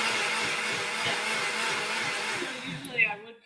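A Blendtec blender whirs steadily at close range as it blends a smoothie with ice, a dense continuous roar that winds down and stops near the end.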